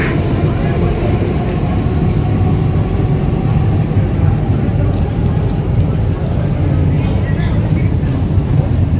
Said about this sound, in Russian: А мы с ним едем в Аэроэкспрессе.